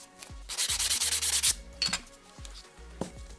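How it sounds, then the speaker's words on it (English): A 240 grit file prepping a natural fingernail, a rapid run of about ten short rasping strokes followed by a few slower, separate scrapes, close and clear with no talk. "So with this 240 grit file, we're going to prep the natural nail."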